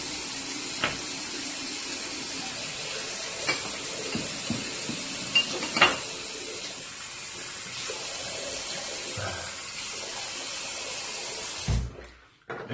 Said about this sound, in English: We'll give it a quick rinse.